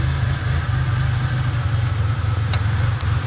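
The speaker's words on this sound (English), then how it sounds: "Here's the engine, it's just barely idling enough to," Centurion boat engine barely idling while it loses vacuum, a steady low rumble with an uneven pulse, close and continuous, with a brief sharp tick partway through.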